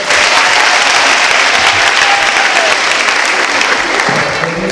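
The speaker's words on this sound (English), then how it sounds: "Can we please applaud her?" A crowd at an International Women's Day celebration bursts into loud, dense, sustained applause, a steady wash of many clapping hands close by with no talking over it.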